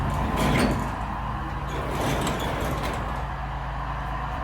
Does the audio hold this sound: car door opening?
yes